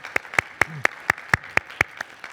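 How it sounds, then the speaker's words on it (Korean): A Korean church youth congregation claps in a slow, even rhythm, about ten sharp, distinct handclaps in a row with quiet gaps between them. "우리 한번 박수로 응원해 주시면 좋겠습니다"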